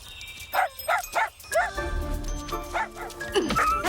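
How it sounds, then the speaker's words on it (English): A dog in a movie scene yelps and whimpers after being kicked, several sharp high cries in quick succession followed by whining, mixed with film soundtrack and background voices. "One of the protagonists of this movie just kicked a dog!"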